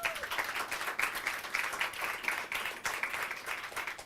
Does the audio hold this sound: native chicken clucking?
no